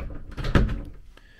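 A privacy door inside an 1980s–90s caravan is moved, giving one brief, soft sliding thud and swish indoors with no one talking.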